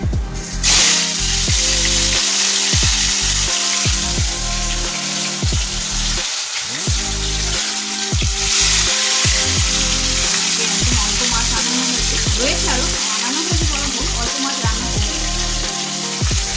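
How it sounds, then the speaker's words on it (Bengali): Katla fish pieces rubbed with salt and turmeric fry in hot oil with a loud, close, unbroken hissing sizzle, and low humming tones pulse steadily underneath. "এ দেখো কাতলা মাছগুলোতে ভালো করে নুন হলুদ মাখিয়ে নিয়েছি, এবার ভেজে নেবো।"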